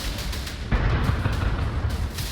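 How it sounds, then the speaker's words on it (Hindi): A blast from a Russian attack on Kharkiv, Ukraine, lands as one sudden loud boom after a quieter stretch, then rolls on as a heavy, sustained rumble with no voices. "भीषण विस्फोट की इस तस्वीर को देखकर अंदाजा लगाया जा सकता है"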